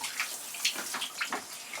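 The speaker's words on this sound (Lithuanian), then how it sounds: "iš jų leidžia vandenį biškai" Water is let out in a gushing, bubbling flow that surges in several uneven bursts, close and moderately loud, with no talking.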